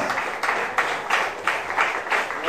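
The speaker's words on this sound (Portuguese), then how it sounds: "Palmas para o Senhor Jesus" A church congregation claps together in broad, steady applause with rhythmic surges, moderately loud and without voices over it.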